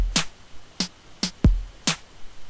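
A trap drum pattern programmed in LMMS, with a steady series of crisp, snappy hits and one deep, sliding kick filling a gap midway. The beat sounds close and clean.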